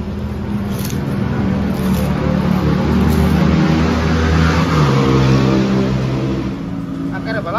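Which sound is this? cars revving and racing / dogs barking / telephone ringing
cars revving and racing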